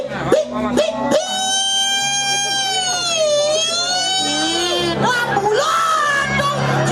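An ambulance siren passes with a long rising and falling wail that dominates the scene, loud and close, while people talk and a dog barks at it.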